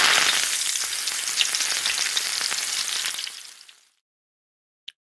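Bacon sizzles and crackles in a hot pan, a dense, loud frying hiss that runs steadily for about three seconds, then fades quickly into silence, ending in one brief faint tick.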